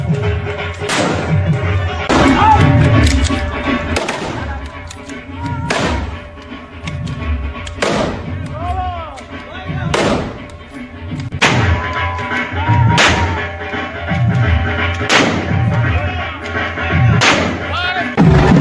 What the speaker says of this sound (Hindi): हाथ में बंदूक लिए दाएं दाएं फायरिंग करता हुआ